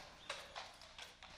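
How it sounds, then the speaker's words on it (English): Horse hooves clip-clopping in the video game The Last Door, a steady rhythm of soft, close hoof strikes about every third of a second, faint and heard alone without talk. "Oh, we're on a horse."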